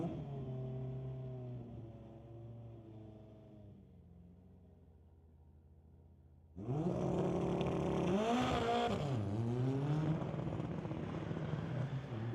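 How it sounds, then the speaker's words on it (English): A Volkswagen Beetle with a Honda K20 turbo engine races a Mercedes at a street-legal drag strip night; engines idle and rumble, then one launches into a loud, rising roar. "Bring up Kevin Kaiser with a Honda K20 turbo motor underneath that Volkswagen Beetle, so it's going to have some pep to its step."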